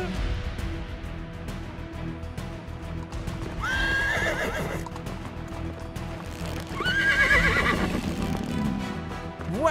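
White horse in a Roblox animation whinnies twice, loud and close, each neigh a shrill rising-and-falling call, with hoof clip-clops and a busy background bed beneath.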